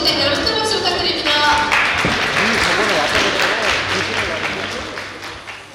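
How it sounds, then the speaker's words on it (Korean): Audience applause at an international biennale forum as guests are invited onto the stage, a sustained wash of clapping held steady for several seconds and fading slightly toward the end, with faint talk beneath. "무대로 오실 때 여러분 큰 박수 부탁드립니다"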